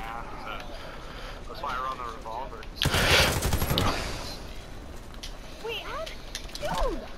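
Shotgun fire in an online multiplayer video game rings out as a loud, broad burst lasting about a second midway through, set among game sounds and bits of talking.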